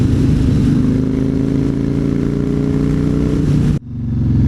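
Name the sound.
Yamaha Raider 113 cubic inch motorcycle engine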